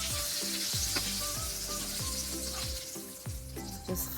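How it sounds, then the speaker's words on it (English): Pakoras sizzle steadily in hot oil, a constant crackling hiss with soft music playing underneath. "Just fry it from all the sides."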